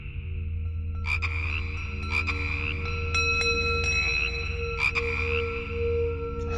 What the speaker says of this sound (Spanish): en la charca saltaban algunas ranas. Su curioso sonido rompía lo tétrico del lugar.